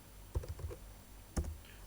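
Computer keyboard keys tapped in two short bursts, a quick run of several clicks followed by a pause and another louder cluster, close and clear in a quiet room.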